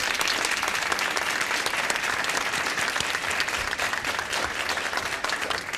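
An audience at an academic awareness awards ceremony applauds as they stand, a dense, continuous wash of many hands clapping that stays even and fairly distant throughout.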